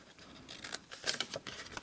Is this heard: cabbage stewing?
no